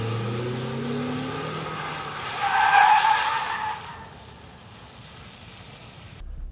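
Automatic car skidding backward with tires squealing as it whips around out of reverse, a rising engine note peaking in a loud screech that fades into a low rumble.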